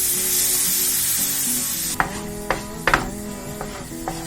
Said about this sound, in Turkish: Şimdi hızlıca karıştırmaya devam.